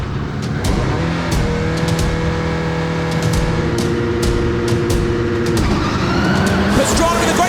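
Subaru rally cars surge off the line at a race start, engines revving and accelerating loudly with sharp clicks and bursts, nearby and under a commentator's voice.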